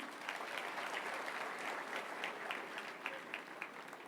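An audience claps steadily at a Maseno School 120th anniversary celebration, honouring a team that raised 80 million. The applause stays moderately loud and dense throughout, with a few sharper claps standing out near the end and no voices on top.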